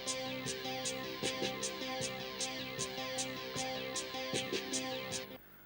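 A synth arpeggio passes through a digital delay, its repeated sequence of bright notes echoing over a steady drum beat with snappy hits, until the sound cuts off near the end.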